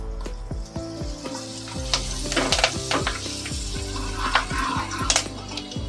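Curry leaves tossed into hot oil already seasoned with asafoetida, crackling and sizzling loudly and steadily up close, with a few spoon scrapes against the pan.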